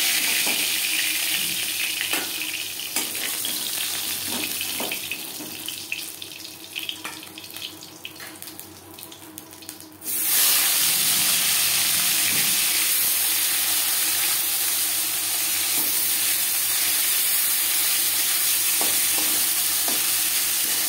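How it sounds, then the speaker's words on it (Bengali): Fish pieces frying in a pan with little oil: a quieter stretch of stirring and scraping gives way midway to a loud, steady hiss of sizzling that continues unbroken, close up, with no voices. "পরের মাছ একইভাবে ভেজে নেব।"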